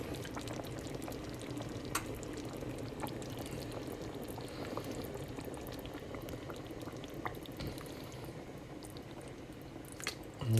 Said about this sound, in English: I'm going to add a little tomato juice just to thin it just ever so slightly.